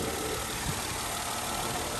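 A 2004 Mercedes-Benz E320 engine runs at a steady idle, giving a constant, even mechanical hum and whir with no talking over it.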